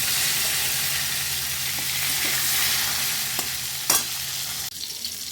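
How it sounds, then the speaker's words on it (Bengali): Mango pieces sizzle steadily in a hot pan with oil, bay leaves, chillies and a five-spice tempering, with occasional clinks and scrapes of stirring near the end and no talk. "এবার আম দিচ্ছি আমি। আমগুলো একটুখানি জাস্ট ভেজে নেব।"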